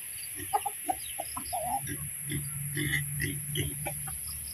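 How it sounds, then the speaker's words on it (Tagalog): Chickens cluck and chatter in short bursts close by on a farm, with faint murmuring voices and a steady high hum in the background. "tuwang-tuwa yung mga manok"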